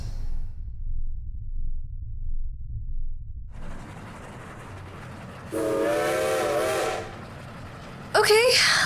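A steam train rolls with a low, steady rumble, then a long whistle blast sounds, followed by a short second blast near the end.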